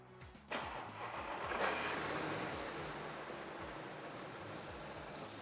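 An Audi A6 engine with two dead cylinders cranks and catches, then idles roughly with an uneven, loping low rumble close by, steady and without talk.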